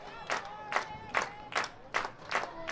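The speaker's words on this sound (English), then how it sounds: "Crowd claps in unison as you hear the 2 ball, 2 strike pitch." Softball crowd at an Oklahoma vs Utah game clapping together in steady unison, six evenly spaced bursts of claps over a low murmur of the stands, moderately loud and fairly close.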